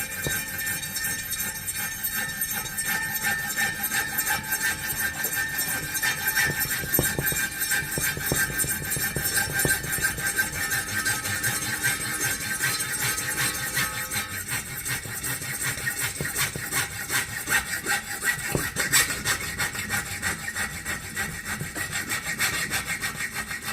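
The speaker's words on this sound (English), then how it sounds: "We'll just clamp that in there, and just junior hacksaw will cut through that" A junior hacksaw cuts through a brass runner clamped in a vise, its blade rasping in a rapid, even back-and-forth rhythm that continues steadily, close and clear.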